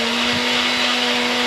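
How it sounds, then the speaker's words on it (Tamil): Electric mixer grinder powering through spice powder, a loud, steady, close motor whine with a constant tonal hum that cuts off abruptly at the end. "வந்து மிக்சியில் தூள் இடிக்கிறான் பார்த்தீங்களா"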